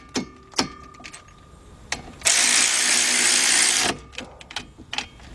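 A cordless ratchet whirs steadily for about a second and a half while tightening front brake caliper bolts on a 2007 Nissan Murano 3.5, surrounded by sharp clicks and clanks of tools nearby.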